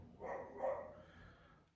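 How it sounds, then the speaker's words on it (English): Dogs bark and yap outdoors on an early Spanish morning, a couple of faint, distant barks over low background noise with no talk. "You can hear the animals, dogs, all out for the morning walks and that, yapping away."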